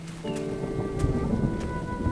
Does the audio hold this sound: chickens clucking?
no